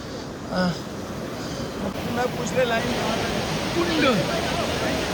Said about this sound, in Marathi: गरम पाण्याचं कुंड पाणी भरपूर येत आहे